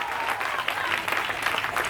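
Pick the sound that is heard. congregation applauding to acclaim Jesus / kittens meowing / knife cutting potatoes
congregation applauding to acclaim Jesus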